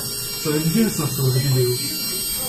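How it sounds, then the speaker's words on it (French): An elevator door buzzer in a Paris railway station sounds a continuous electric buzz while the door is forced shut, with someone speaking French over it. "Il va se mettre à buzzer et faire une fermeture forcée."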